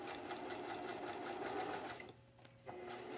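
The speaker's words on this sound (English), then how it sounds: "I'm stitching here with a 1/4 inch seam allowance." A sewing machine stitches a quarter-inch seam around a scooped neckline curve on a dress, its needle running in a steady fast hum, pausing briefly near the end before restarting.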